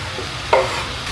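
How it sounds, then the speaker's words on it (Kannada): Onions tipped into hot sesame oil for a North Karnataka girmit, giving a brief loud sizzling burst over a steady frying hiss, with no talk. "ಎಣ್ಣೆ ಚೆನ್ನಾಗಿ ಕಾದಿದೆ. ಇವಾಗ ಇದನ್ನು ಈರುಳ್ಳಿ ಸೇರಿಸೋಣ."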